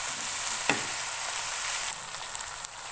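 A tomato and bay leaf mixture for matar pulao sizzling in a pan while being stirred, a steady crackling hiss with a few soft utensil scrapes, close and alone.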